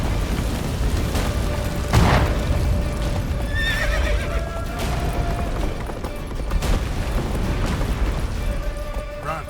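Horse galloping and whinnying in The Witcher 3 during a fortress battle, with steady hoofbeats under a dense background roar, and a sharp neigh rising near the start and again mid-ride.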